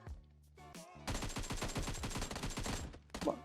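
Gunfire rattles in rapid automatic bursts during a firefight in the video game PUBG Mobile. Two bursts of shots sound, a short one and then a longer sustained volley, loud and close.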